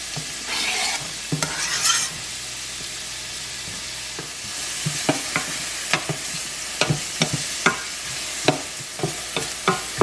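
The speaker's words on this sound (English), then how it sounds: "We're just softening them in the butter" Onions softening in butter in a pan at the start of a butternut squash risotto, with a soft continuous sizzle and repeated sharp scrapes and clicks of stirring that grow more frequent toward the end.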